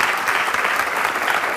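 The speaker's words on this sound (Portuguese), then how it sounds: "Um aplauso para as duas e bem-vindas." Studio audience applause on a live television talk show, a full, even wash of clapping from many people, loud and close and sustained across the whole moment.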